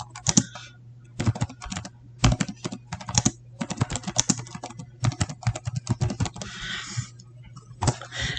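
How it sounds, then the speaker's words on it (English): Fast, close clicking on a computer keyboard as a quiz question is typed in, bursts of keystrokes separated by short pauses, with a faint steady hum beneath and no speech. "So you just type in your question."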